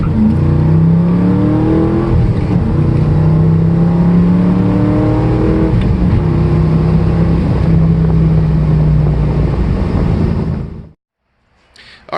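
Car engine pulling hard through the gears, loud and close, with rising revs that drop at each shift and climb again for several cycles before cutting off abruptly near the end.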